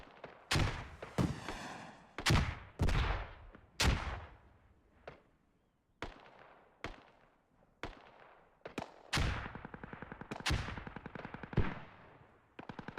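Bursts of gunfire in a video game battle, with sharp single shots and rapid automatic volleys of varying loudness, some close and punchy, others more distant, spread across the whole stretch.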